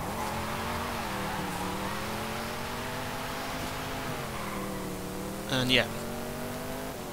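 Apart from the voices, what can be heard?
1966 Chevrolet Nova Super Sport accelerating, video game Forza Horizon 5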